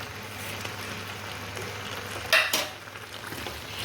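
Country chicken fry being stirred in a pan over heat, a steady soft sizzle with a burst of spoon-and-pan scraping near the middle, close and moderately quiet.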